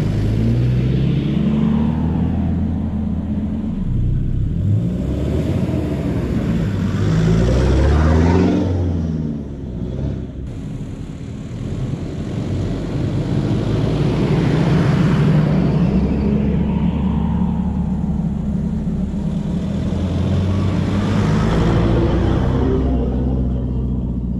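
A car drives along a sandy beach near Port Macquarie, its engine a steady loud rumble with tyre roar that swells and eases as it moves, continuous throughout with no voices.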